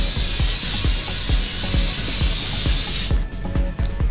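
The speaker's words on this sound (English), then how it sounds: "we then go over it again with a mist of the silicone spray." Silicone spray is misted across a shuffleboard table in a loud, steady, close hiss lasting about three seconds before it cuts off, with faint clicking of the nozzle underneath.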